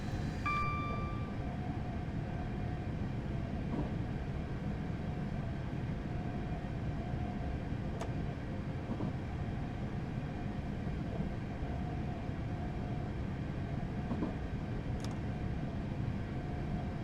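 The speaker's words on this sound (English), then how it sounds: "I've now released the brakes once again just to let the train continue to coast." Class 444 electric train coasting after its brakes release in Train Simulator 2015, a steady rumbling cab drone with a faint sustained whine and a few isolated clicks, with no voices.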